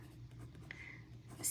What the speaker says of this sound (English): so let's write that here